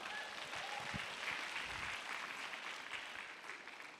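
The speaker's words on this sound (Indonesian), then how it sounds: "Tepuk tangan dong untuk Atomi." Audience applause for the brand Atomi at a business seminar in Indonesia, a steady wash of clapping from a large indoor crowd lasting the full few seconds without talk.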